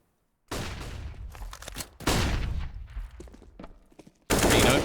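FAMAS rifle fire in Counter-Strike, several loud bursts of rapid shots broken by short pauses, the last burst ending in a dense, heavy volley.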